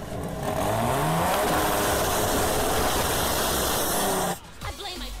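A Chevrolet Opala coupe engine revs hard in the video game GTA, a loud sustained roar holding steady for about four seconds before cutting off abruptly into quieter rumbling.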